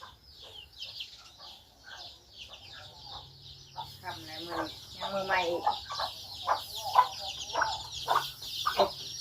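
Chickens cluck in a home kitchen, a run of short, sharp calls growing busier and louder over a low steady hum, with a person talking over them.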